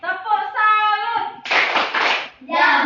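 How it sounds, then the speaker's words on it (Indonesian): A class of children claps in short rhythmic bursts, bright sharp hand claps alternating with their chanted voices at close range indoors. "mari kita tepuk salut dulu ya, biar semangat dulu pulang ke rumahnya"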